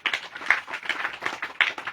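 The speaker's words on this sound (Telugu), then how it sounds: "చప్పట్లు కొట్టండి గట్టిగా." A congregation claps at a gospel youth revival meeting, a quick, uneven burst of hand claps with a few sharper accents, fairly close and alone.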